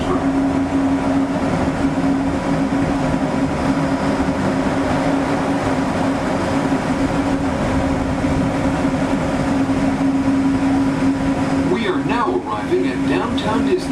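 A Disneyland Resort ride train glides into Downtown Disney Station with a steady rolling rumble and a constant droning motor tone. It stays even and close throughout, with some clatter and movement near the end.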